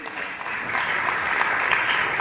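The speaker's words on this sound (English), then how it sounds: "Give a round of applause" Audience applause during a talk on motivating employees: a brief, even burst of crowd clapping, steady and fairly full, with no voices over it.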